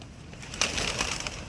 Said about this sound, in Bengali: কবুতর কত সুন্দর।